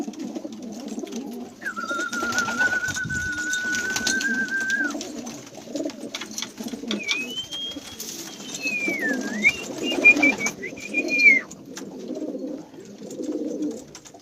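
Syrian tumbler pigeons heard in a loft, soft cooing and a few drawn-out calls over a low background rumble, with occasional wing movement; no talking.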